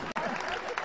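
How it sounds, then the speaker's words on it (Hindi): Audience applause at a religious gathering, a Jambudweep mahamandal aradhana ceremony, steady and continuous throughout with a brief dip near the start, filling the room at moderate level. "बहुत कृपया लगातार तालियां बजाते ही रहे"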